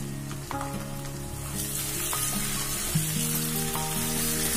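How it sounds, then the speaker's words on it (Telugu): Chicken pieces sizzle loudly in a hot masala with curry leaves and ginger garlic paste, a dense continuous frying hiss with some stirring and no talk. "ఇప్పుడు మనం నీట్గా కడిగి పెట్టుకున్న చికెన్ ని వేసుకుందాం."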